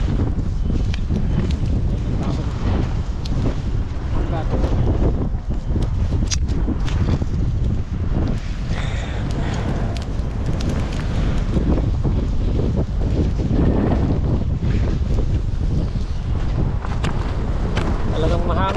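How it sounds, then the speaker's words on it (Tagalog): Strong wind roars steadily across the microphone, a continuous gusty rumble that covers faint background activity. "Talagang mahangin."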